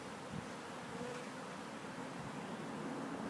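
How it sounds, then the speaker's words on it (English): A honeybee swarm shaken into a box gives a dense, steady buzzing hum that fills the whole stretch at a low, even level, with a faint rustle near the start. "I've never shook that many bees before"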